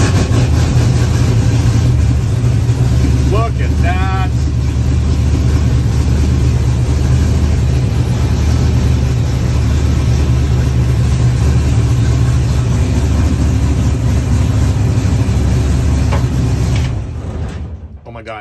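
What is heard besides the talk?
1967 Camaro engine starting and idling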